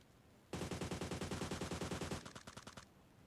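Rapid close automatic gunfire in the mobile battle game PUBG Mobile Lite, a loud sustained burst of evenly spaced shots lasting over two seconds before cutting off.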